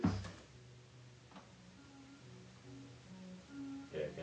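Stock FL Studio chords slowed to half speed, with soft sustained tones stepping slowly from one chord to the next. The playback stays quiet and mellow throughout, with no voices over it.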